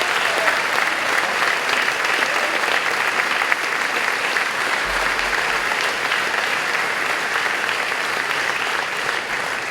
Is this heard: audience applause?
yes